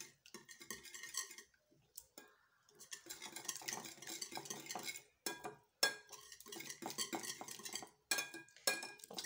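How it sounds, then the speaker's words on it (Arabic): Ingredients mixed by hand with a sprinkle of cheese in a bowl, giving close scraping, clinking and stirring strokes in irregular bursts with short pauses, no talk. "وغنخلط البنات هاد المكونات اللي عندي جيدا"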